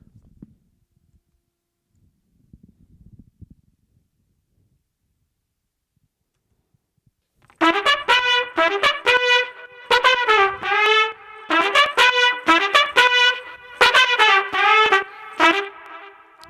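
Four horns in an Afro House mix blast short rhythmic stabs and swells after a long near-silent stretch with faint low thumps, the bright brassy phrases loud and punchy.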